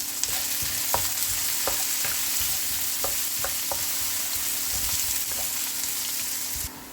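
Onions with a pinch of rock salt sauté in a pan for green chicken curry, a constant close sizzle broken by several sharp spatula scrapes and taps against the pan, no voices.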